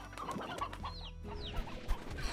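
Chickens cluck and a rooster calls in the Slime Rancher video game, a few short, irregular clucks and squawks over a soft background with no talking.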